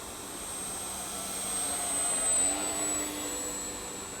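An FMS J-3 Piper Cub model airplane makes a slow flyby, its electric motor buzzing with a steady whine that rises and then recedes, heard alone against outdoor air.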